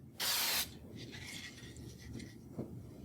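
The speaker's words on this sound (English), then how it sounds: "Pick up the can of blender, and what I'm doing is spraying over it." An aerosol can of blender sprays over paint in one short, loud, close hiss, followed by faint rustling handling noises.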